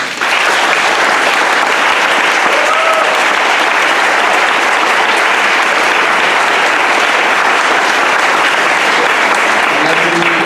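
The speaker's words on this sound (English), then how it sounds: "Give them a round of applause" Sustained applause from the audience at a Virginia 10th Congressional District candidate forum for the 2018 primary, a dense, steady wash of clapping filling the room for about ten seconds with a few voices mixed in.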